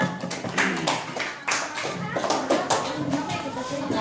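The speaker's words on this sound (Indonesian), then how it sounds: "Oke, tepuk tangan." Students in a classroom clap together, a fairly close burst of uneven hand claps with loose rhythm, while children's voices chatter underneath.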